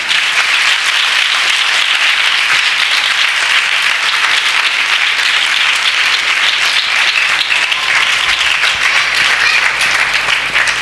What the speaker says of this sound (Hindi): एक अच्छी सुबह के लिए प्रभु के लिए एक अच्छी ताली बजाएंगे हम सब